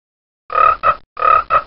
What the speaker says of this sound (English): The leopard frog calls for a mate.